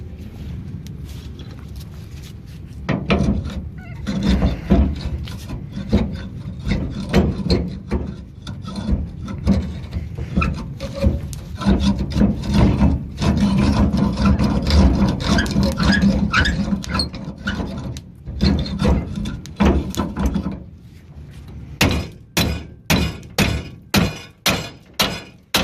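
A screwdriver hammered to chip rust out of a Ford Ranger leaf spring shackle, irregular close metallic taps and scraping over a long stretch, ending in a run of sharp evenly spaced strikes.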